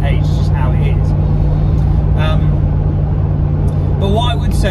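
An old, high-mileage Rover V8 in a Range Rover P38, nearly 30 years old, hums steadily with a low drone during a test drive, while someone talks over it.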